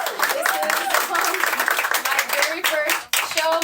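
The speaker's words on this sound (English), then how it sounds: "Y'all give her a hand clap." Clapping from the audience at a live podcast event on women in entrepreneurship, a dense patter of hands with talk and voices mixed in over it and a short break near the end.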